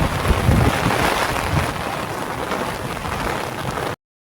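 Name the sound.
heavy rain during a storm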